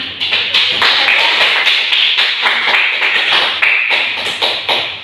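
Classmates applaud together in a classroom during a microteaching lesson. Dense, loud, close clapping runs without a break for about five seconds.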